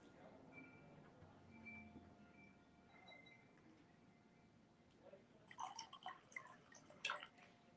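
Liquid is poured into a blót bowl during an Ásatrú Sigrblót ritual, heard as a faint, brief trickle and scattered drips near the end over a quiet room background.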